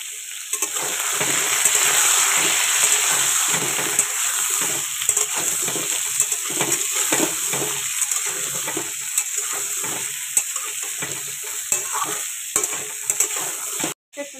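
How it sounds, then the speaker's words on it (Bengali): Pointed gourd fries in oil with turmeric and salt, giving a loud, steady, close-up sizzle that runs throughout, with occasional stirring scrapes and taps in the pan. "হালকা করে পটল ভেজে নিচ্ছি, একটু হলুদ আর লবণ দিয়ে দিলাম।"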